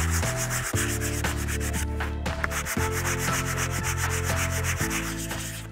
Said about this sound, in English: I just have some 220 grit sandpaper and I'm gonna sand the top of this nice and smooth.